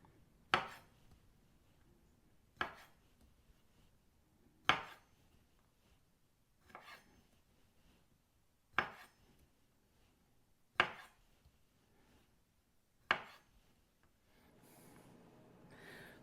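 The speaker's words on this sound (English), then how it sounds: "And I'm just going to cut these grapes in half." A knife cuts grapes in half on a board, giving seven sharp, evenly spaced chops about two seconds apart, close and fairly loud, with quiet gaps between them and a soft rustle at the end.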